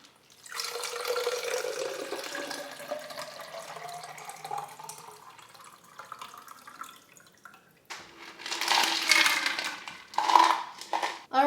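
Ice water pours into a double-walled acrylic tumbler: a rising gurgle of liquid filling the cup, a quieter pause, then clinking ice cubes and splashes near the close.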